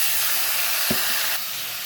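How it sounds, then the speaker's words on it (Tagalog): Pork hits a hot pan over browned aromatics for pork adobo, a steady sizzling hiss with a brief thump as the meat lands, the frying noise easing slightly near the end. "Ilalagay na natin yung ating pork."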